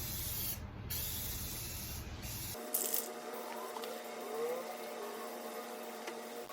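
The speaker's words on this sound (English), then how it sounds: "when you're spraying, every few moments, wipe off the tip" A steady hiss of spray paint from an aerosol can, painting over car door and window chrome trim, runs continuously, close by, with a brief shift in tone partway through.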